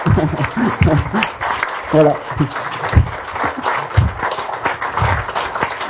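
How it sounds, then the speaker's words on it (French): Audience applause at a reading, dense sustained clapping filling the room while a voice speaks briefly over it. "il faut tous l'applaudir pour lui donner de la force"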